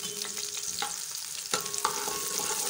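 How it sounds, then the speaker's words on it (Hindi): Chopped onions fry in hot aromatic oil for a desi chicken curry, with a continuous sizzle and a few scraping stirs of a spoon close by. "अब मैं इसमें कटी हुई प्याज डालूंगी।"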